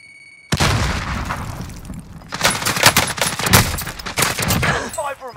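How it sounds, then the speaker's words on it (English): Explosions and heavy gunfire in a video game battle, a sudden loud blast followed by dense bursts of shots and booms continuing throughout, with faint voice beneath. "Grenade out."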